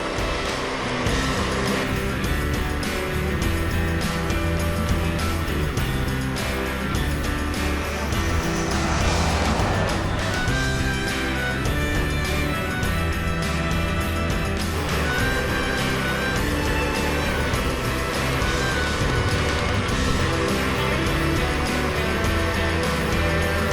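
Strong wind in a sandstorm makes a loud, continuous roar with heavy buffeting that holds steady throughout, with no one talking.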